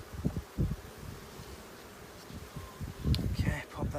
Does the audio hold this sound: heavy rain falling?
no